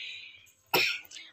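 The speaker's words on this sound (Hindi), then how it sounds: "अम्मी को काफी दिन से खांसी है, पता नहीं कैसे ठीक नहीं हो पा रहा" A single harsh cough from an older woman who has had a lingering cough for many days, one loud close burst after a quieter stretch of faint background noise.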